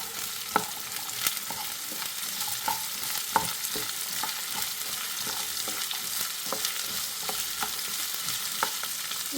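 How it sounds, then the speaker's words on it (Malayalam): Chopped cauliflower is stir-fried with softened onions in a pan, giving a continuous close sizzle with scattered scraping and tapping of a spoon as it is stirred. "ഇനി അതിലേക്ക് നമ്മൾ നേരത്തെ കട്ട് ചെയ്ത് വെച്ച കോളിഫ്ലവർ ചേർത്തെടുക്കുകയാണ്."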